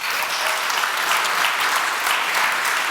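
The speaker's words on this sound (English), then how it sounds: "so big round of applause." Dense, steady applause from an audience at a live chess event with Magnus Carlsen in Norway, sustained and even throughout with no pauses or voices.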